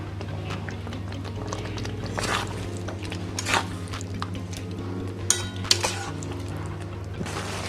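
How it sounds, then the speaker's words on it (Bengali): Spices being stirred into chicken in a pan for chicken korma, with scattered metallic clinks and scrapes of a utensil against the pan over a constant low kitchen hum. "ভালো করে আমি মশলাগুলোকে মাংসের সঙ্গে মিশিয়ে নেব।"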